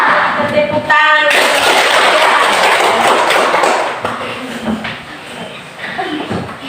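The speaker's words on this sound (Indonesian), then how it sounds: "Tepuk tangan." Applause from a class of students after a group presentation on shared values, a dense burst of clapping that starts abruptly and stays loud and steady, thinning slightly toward the end.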